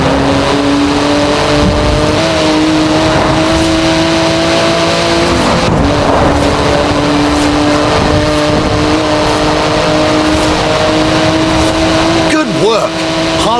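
Race car engine droning and revving in Forza Horizon 4, steady tonal whine with shifts in pitch and a brief tire squeal near the end, with a voice commentating over it.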